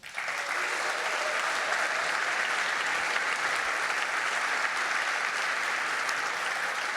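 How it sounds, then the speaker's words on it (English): Sustained applause from a sizable crowd at the A MAZE. Berlin 2025 award show, a dense, even roar of clapping that holds steady throughout. "let's just have a big applause for all of them"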